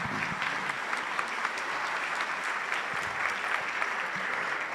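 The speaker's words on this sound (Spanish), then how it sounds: "Más que merecido este aplauso para el maestro José Antonio del Pino Fernández" Sustained applause from a lecture audience after a master conference on Cuba's education system, dense overlapping claps rolling steadily throughout at moderate level, with no voices standing out.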